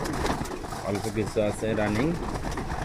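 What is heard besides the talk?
pigeons cooing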